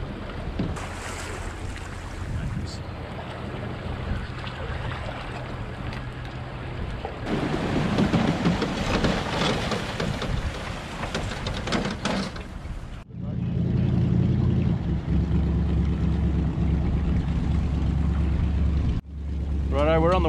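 Jet boat on the Waitā River on New Zealand's West Coast, a loud steady engine and water roar that shifts character midway, heavy wind buffeting throughout, no talking.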